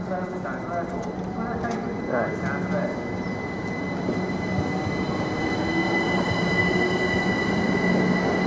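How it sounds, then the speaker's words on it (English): A British Rail Class 158 diesel multiple unit pulls into platform 2 at Ely station, a steady rumble with a high wheel squeal holding throughout, while people talk nearby over the approach. "here comes another class 158 unit, arriving to platform 2 en route to Liverpool Lime Street"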